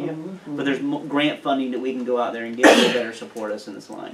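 A person speaks steadily at a board agenda meeting, and partway through someone nearby lets out a single loud, sharp sneeze over the talk.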